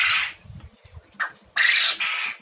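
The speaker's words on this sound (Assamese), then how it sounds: "এইখিনি বতা চৰাই" Bata birds call from their enclosure in short, harsh squawks, two or three loud close bursts separated by brief pauses.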